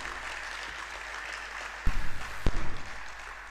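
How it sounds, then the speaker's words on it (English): Audience applause at a university convocation lecture, a broad steady patter of many hands with a couple of louder swells near the end. "Please let's give him a better round of applause."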